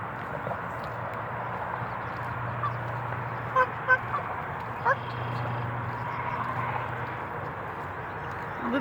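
Canada geese, a family of adults with about ten goslings near dirty water, giving a few short honks at mid-distance over a steady outdoor background hum, with people talking nearby.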